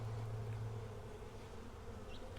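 Steady droning hum of honey bees from a package colony during a week-three hive inspection, continuous and fairly close, with no talk over it.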